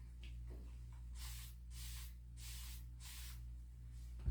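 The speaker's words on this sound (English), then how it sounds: "So we're just going to spritz it." A spray bottle spritzes a Dollar Tree sign in five quick hissing bursts, evenly spaced and close, over a low steady background hum.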